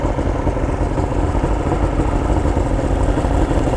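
A Basscat boat's outboard engine idling out of the water at roughly 1,500 rpm, a steady, loud, close rumbling drone that holds even throughout with no talking.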